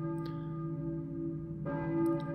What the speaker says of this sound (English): I hear a church bell, maybe.